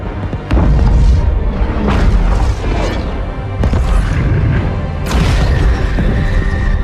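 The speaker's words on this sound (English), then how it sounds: "Master Chief giving the Covenant back their bomb is a hugely cinematic moment, with big sounds, big explosions" Heavy booming blasts and crashing debris from a bomb explosion in a Halo 2 cutscene, rolling loud and continuous with several sharp impacts over dense rumble.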